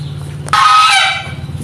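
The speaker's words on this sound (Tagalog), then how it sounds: "Ay, sorry po, may gansa." A goose lets out a single loud, harsh honk close by, sharp at the start and holding about half a second before trailing off, over a steady low machine hum with no talking.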